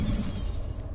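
A glass cabinet in Dishonored 2 shatters in one short, bright crash of breaking glass. The hiss of falling shards follows and fades within a second.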